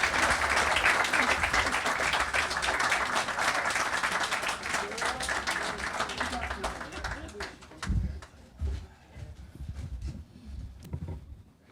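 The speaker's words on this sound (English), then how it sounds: "One more round of applause for Sabrina." Clapping from an audience at an outdoor groundbreaking ceremony, fairly faint and dense at first, then tapering off into scattered claps and quiet voices toward the end.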